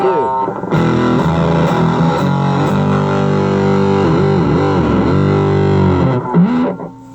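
An electric guitar is played through a heavily distorted, loud effects pedal, with sustained gritty chords and pitch bends, close up and continuous.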